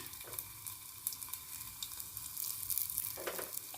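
Seedai, small Tamil rice-flour balls, frying in hot oil with a soft, steady sizzle and a few stirring clinks, close and with no talk.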